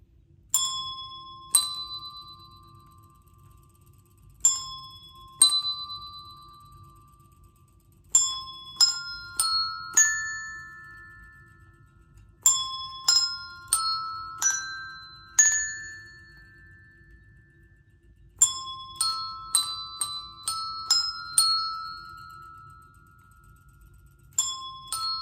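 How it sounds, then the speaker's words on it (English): Bells played by a facilitator in a music therapy repeat-after-me game: short groups of clear ringing tones in varied patterns, each note decaying slowly, separated by pauses in a quiet room. "the facilitator will play a few notes on the bells"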